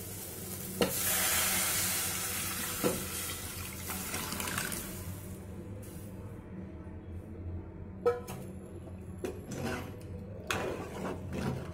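Coconut milk, tomato and tamarind mixture for coconut rasam is poured into a hot pan, sizzling and splashing, followed by quieter stirring with a few sharp clinks of the utensil.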